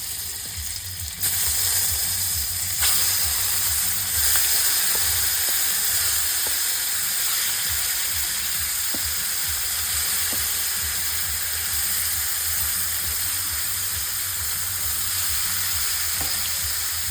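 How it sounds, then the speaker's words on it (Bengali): Pointed gourd (kakrol) pieces fry in hot oil in a home kitchen pan, giving a steady close sizzle and hiss with occasional stirring scrapes and taps, no voices. "কাঁকরোলগুলোকে এখন সুন্দর করে ওপাশে ভেজে নেব"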